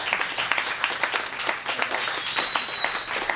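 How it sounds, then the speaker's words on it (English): An audience at a lecture in Petaluma, California claps steadily for a group of students, a dense, even patter of many hands that holds at moderate level throughout. "So please give a round of applause to all these students."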